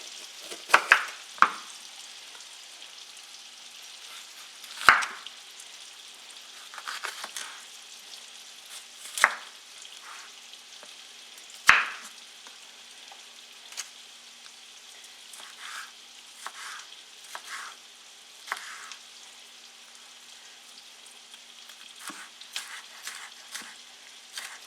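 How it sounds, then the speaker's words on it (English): Onion and pepper frying in a pan for a Tex-Mex corn casserole, a steady close sizzle with scattered sharp clicks and scrapes as the vegetables are stirred, no talking. "Let me get the onion in the pan."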